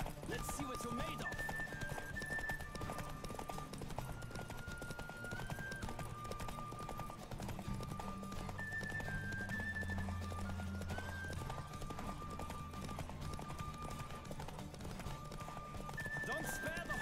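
During a horse race in The Witcher 3 game, rapid clip-clop hoofbeats gallop continuously with occasional neighs, layered under game music and spoken voices.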